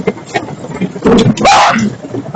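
One person sneezes sharply in the middle of a short stretch of muffled voices and background noise, a loud abrupt burst that fades quickly.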